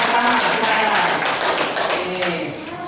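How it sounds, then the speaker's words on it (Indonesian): Classroom applause for the first student group after their presentation at a vocational high school, a dense burst of many hands clapping that fades slightly toward the end. "aplaus untuk kelompok pertama"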